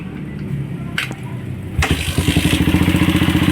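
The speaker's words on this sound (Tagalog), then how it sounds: "Start mo sir ang motor." A motorcycle engine cranks and catches, then settles into a steady, rapid idle close by, with no talking.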